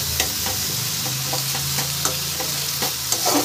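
Spice paste with tomato is sautéed in a pan, a steady close sizzle broken by repeated spatula scrapes and taps.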